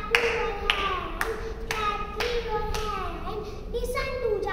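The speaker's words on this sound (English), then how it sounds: "Clap your hands." First-grade schoolchildren clap their hands along to an action song, the claps landing in a loose, steady beat under continuous music and young voices.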